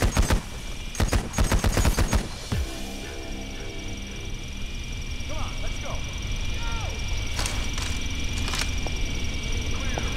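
Sniper gunfire in the Payday The Heist video game: a rapid cluster of loud, sharp cracks opens, then isolated shots ring out over a steady background din with shouted voices.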